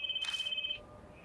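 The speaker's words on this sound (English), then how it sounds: "I hear the ringing." A telephone rings in a video game, a short electronic trill of rapid warbling pulses heard once, clear and fairly close before it cuts off.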